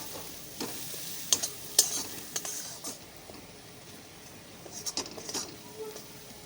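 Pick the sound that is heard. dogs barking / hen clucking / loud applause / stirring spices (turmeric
stirring spices (turmeric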